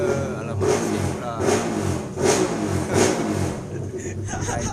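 A motorcycle arrives outside, its engine rising and falling in several revving surges, heard from indoors as people talk over it.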